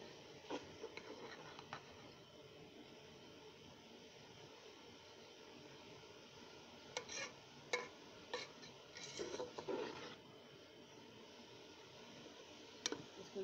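Spatula scraping and stirring cabbage and eggs in a cooking pan, faint clinks and scrapes clustered in short bursts over a low, steady background hiss.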